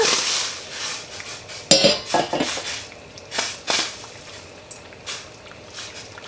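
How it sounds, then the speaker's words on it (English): Sugar being stirred into dandelion jelly at a full boil in a pot, heard as a close run of metallic spoon scrapes and clinks against the pot, irregular and sharp, with quiet gaps between strokes. "you want to go ahead and stir in your sugar"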